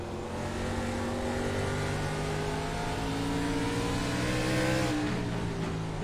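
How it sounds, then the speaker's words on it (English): A NASCAR race car engine in the iRacing game at Irwindale Speedway holds a steady high-revving drone near redline, with pitch rising gradually before a brief dip, continuous and loud without talk. "Let's listen to that motor."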